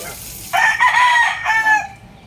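A rooster lets out a single loud, close crow lasting just over a second, rising and trailing off against a quiet background.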